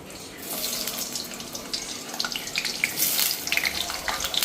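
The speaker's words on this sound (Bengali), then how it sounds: "আলুটা ধুয়ে রাখছি।" Potatoes rinsed under a running kitchen tap, a continuous hiss of splashing water with scattered clatter and sloshing as the pieces are handled, fairly close and without speech.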